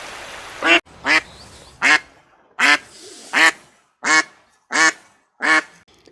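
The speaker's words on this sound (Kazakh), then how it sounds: "Үйрек кря, кря, кря, кря, кря, кря, кря, кря, кря дейді." A duck quacking eight times in a steady, evenly spaced series, each call loud and close with short silences between them.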